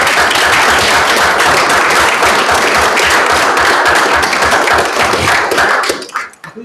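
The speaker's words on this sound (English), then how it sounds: "I'm going to give everybody you guys a little round of applause" A city council meeting audience breaks into a round of applause, dense sustained clapping from many hands that fills the room, then thins and trails off into a few scattered claps at the end.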